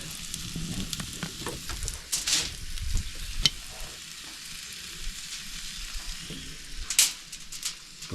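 Onions and garlic sizzle steadily on a grill in a constant crackling hiss, with brief louder scraping or spatter bursts and occasional handling noises close by.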